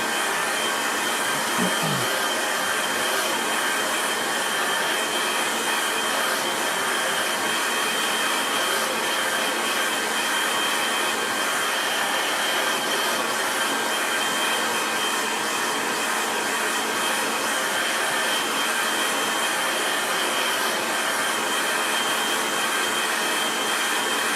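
A hair dryer blows over a watercolour landscape painting, a loud, steady, continuous whoosh of motor and air that runs unbroken throughout.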